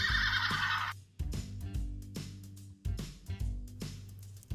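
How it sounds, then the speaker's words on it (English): From a toy farm playset, a bright electronic horse whinny bursts out loudly for about a second, then gives way to a bouncy backing tune with regular thumping beats. "Here's our strong horse."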